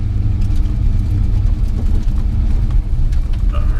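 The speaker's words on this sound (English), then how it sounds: "It's a 303 cam. It's got a nice lumpy idle to it." Ford Mustang V8 with a 303 cam idling with a loud, lumpy, uneven low rumble, close up and steady throughout with no voices.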